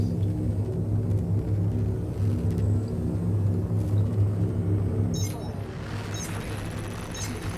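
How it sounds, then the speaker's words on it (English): A spaceship's frame shift drive charges in Elite Dangerous with a steady, loud low rumble and hum that holds for several seconds, then eases off while faint clicks and chimes appear near the end. "Frameshift drive charging. Now I'm gonna throttle up."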